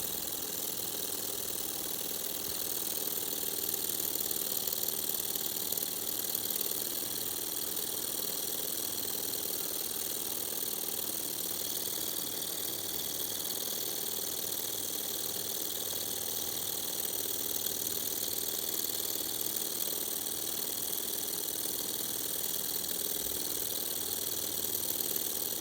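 A small air-powered Stirling engine runs continuously, making an even mechanical whir and hum at a steady moderate level with no talking.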